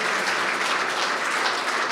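Continuous applause fills a church sanctuary as the congregation claps for a family at the end of a service, a thick, even roar of many hands with no talking over it.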